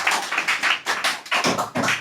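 A small group claps in a classroom lesson, several short sharp bursts of clapping in a quick uneven rhythm, close and fairly loud.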